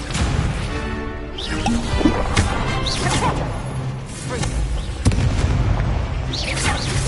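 Spell blasts from Confringo fire in Hogwarts Legacy, a steady run of booming bursts and whooshes with sharp crackling impacts near 2, 5 and 7 seconds, loud and dense throughout over game effects and a shouting voice.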